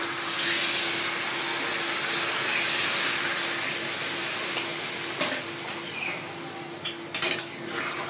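Water poured into a pot of sizzling chicken and potato curry, a loud continuous hiss and bubbling with a few metallic clinks of utensils near the end.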